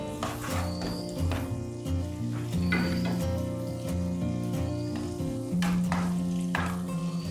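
Ginger and green chilies sizzling as they temper in a hot pan, with repeated scraping taps of a spoon stirring them, close and steady with no voices.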